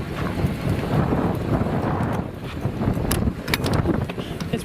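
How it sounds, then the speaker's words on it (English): Strong wind buffeting the microphone, a loud continuous low rumble with gusty bursts and some sharp crackles. "It's really windy"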